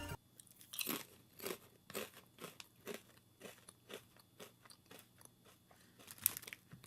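Thick Brannigan's crisps crunched and chewed close up, a steady run of sharp crackly bites, one after another with brief pauses, no talking.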